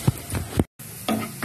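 Onions go into a frying pan with about two spoons of oil and are stirred, giving close sizzling and scraping strokes that break off briefly, then resume.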